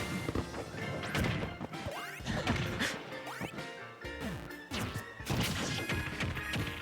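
Forward smash attacks land in a Super Smash Bros. Ultimate tournament match between Steve and Pac-Man, loud crashing hits repeating through a busy stretch of game effects and music.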